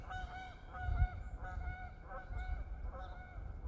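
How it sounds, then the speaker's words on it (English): Geese honk repeatedly in a winter outdoor setting near a catfishing spot, their calls stacked and overlapping at a moderate distance over steady low background rumble. "Did you guys see those geese?"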